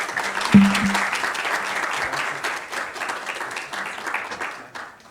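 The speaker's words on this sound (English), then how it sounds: "kindly please clap for Professor Charlotte" Lecture attendees at a Bahrain Women's Day event applaud Professor Charlotte Kamel, a full, sustained roomful of clapping that swells early and slowly thins toward the end, with only a faint voice underneath.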